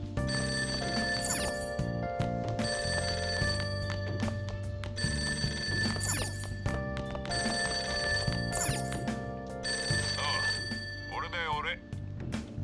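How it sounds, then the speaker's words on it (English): In-game telephone ringing from downstairs in a house, a loud repeating electronic ring in regular bursts with short gaps, with a voice speaking over it near the end. "Ringing sound isn't coming from my cell phone. You're coming from downstairs."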